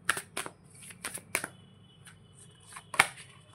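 Tarot cards are riffled and slid from a deck up close, a series of short crisp flicks and snaps spread across a few seconds, with no voices.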